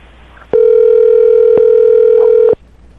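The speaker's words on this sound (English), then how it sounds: "I'm going to dial her phone number right now" A steady, loud telephone dial tone, heard as one continuous hum of about two seconds that starts and stops abruptly against near silence, as someone gets ready to dial a number.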